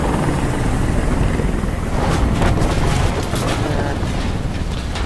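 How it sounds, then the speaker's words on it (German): A helicopter passes overhead in the video game Detroit: Become Human, a loud, sustained rotor rumble with a broad noisy wash that swells around the middle and then eases, with no talk. "Der Hubschrauber fliegt rüber"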